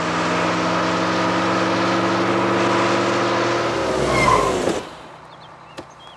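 A car in a movie action scene speeds past to overtake a bus, its engine roaring loud and close with rising pitch before sweeping away and fading into quiet.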